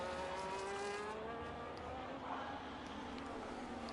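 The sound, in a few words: Aston Martin race car lap in a racing video game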